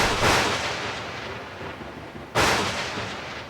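Deep thunder rolling over a Namibian desert campsite during a light rainstorm, two heavy booming cracks a couple of seconds apart, each fading into a long rumble.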